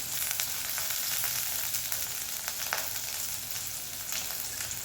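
Curry leaves crackle and sizzle loudly in hot oil for a poori masala, a dense continuous frying hiss with a few sharper pops and light stirring, no talking.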